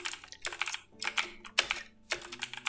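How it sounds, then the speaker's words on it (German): A computer keyboard clatters with rapid bursts of close, crisp keystrokes separated by brief pauses, with heavier thuds that fit space bar presses. "wie man deine Tastatur hört"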